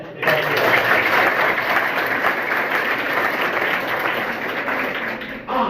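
An audience at a school founders' event for the Vishwakarma family in Mokalpur, Madiyahun, Jaunpur, breaks into sustained clapping that fills several seconds before stopping, with a voice briefly audible at the end.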